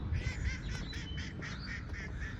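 A duck quacking in the Cotswolds village of Bibury, a quick series of about eight to ten nasal quacks at moderate distance over steady low outdoor background noise.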